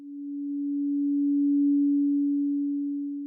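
A simple sine wave oscillator holds one pure, steady low-mid tone that swells gradually in loudness and then eases back down, alone and without any other sound.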